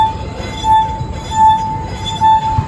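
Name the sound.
wet finger rubbed around glass rim, singing glass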